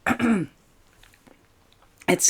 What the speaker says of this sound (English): So I'm going to have a little cough because I have dry throat